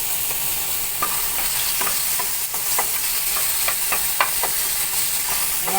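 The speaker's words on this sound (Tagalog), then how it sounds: "igisa ko na yung kamatis" Tomato sautéing in a pan for a pechay dish, a continuous close sizzle of oil with soft scattered taps of stirring throughout.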